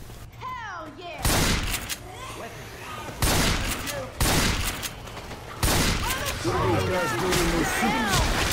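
Loud bursts of video game gunfire come in repeated heavy volleys, close and punchy, with a voice talking between and over the shots.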